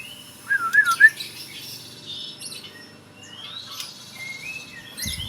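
A caged giras songbird gives a burst of bright, warbling whistled chirps, then softer scattered calls and squeaks over low background murmur, fairly close.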